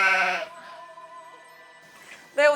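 A goat bleats loudly at close range, one long wavering call followed by a quieter stretch and then the start of another strong bleat, with no talk over it.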